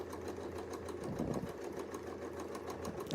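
A sewing machine stitches along the inside of a mitered fabric corner, running in a steady, continuous mechanical whir with rapid rhythmic needle pulses, close and fairly loud, with no talking.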